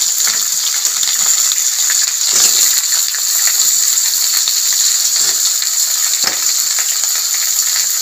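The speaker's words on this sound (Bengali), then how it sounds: "অল্প একটু নুন দিয়ে আলুটাকে লাল লাল করে ভেজে নেব।" Cut potatoes frying in oil in a pan with a little salt, added after chopped ginger and green chilli, for a Bengali vegetarian brinjal dish. A steady, loud, bright sizzle runs throughout, with a few soft stirring knocks and no talk.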